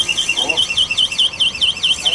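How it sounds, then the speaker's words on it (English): A shrill electronic 'screamer' alarm device sounds a fast, warbling two-tone squeal that repeats steadily and loudly throughout, with no talk over it. "That's the alarm."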